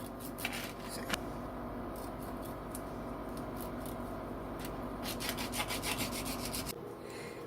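A knife saws through sausage, cutting it into 1-inch slices with continuous rough rubbing strokes and a few sharper scrapes. The sound stays close and fairly quiet, and it stops abruptly near the end.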